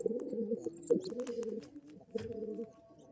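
Pigeons coo steadily at close range in a loft of Murshidabad Giribaz pigeons, low throaty rolling calls overlapping in a continuous murmur with a few brief sharper peaks.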